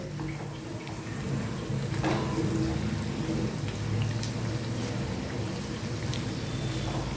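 Onion fritters (piyaji) fry in very hot oil, a dense, even crackling hiss that carries on steadily throughout over a low background hum.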